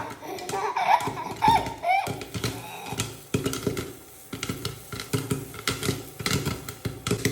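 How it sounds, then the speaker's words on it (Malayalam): Popcorn kernels burst inside a covered pot in rapid, irregular pops that knock against the lid, loud and close, while people talk. "ഇത് നമ്മൾ പടുക്ക പൊട്ടണ പോലെ പൊടുക്ക് പൊട്ടുണ്ട് കേട്ടോ"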